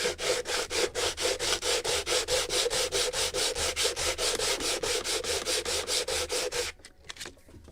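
Sandpaper rubs back and forth over a wooden model of the 1776 gunboat Philadelphia from a Model Shipways kit. About two dozen steady, even strokes sound close and loud, then stop abruptly near the end, leaving only faint handling noise.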